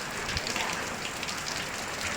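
Steady rain patters on surfaces in a continuous, dense hiss, moderately loud and even throughout, with no voices.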